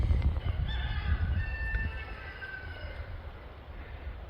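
Chickens in a garden make a loud, noisy chorus of clucks and squawks close by over a low rumbling background, with a few higher calls standing out.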